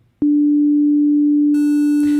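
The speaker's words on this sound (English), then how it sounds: "So a sine wave is just going to have one harmonic." A pure sine tone from a wavetable synthesizer oscillator starts abruptly and holds as a loud, steady hum, with faint higher partials joining near the end.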